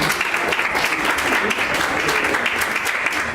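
An audience at a conference on women and peace applauds to welcome a speaker: a loud, close, dense burst of clapping from a hall full of people, steady for a few seconds.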